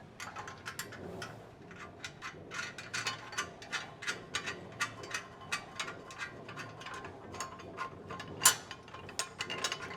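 A hand ratchet clicks in rapid, repeated strokes while threading nuts onto a DIY frame kit for a '57 Chevy truck restomod, close and crisp with a louder metallic clank near the end.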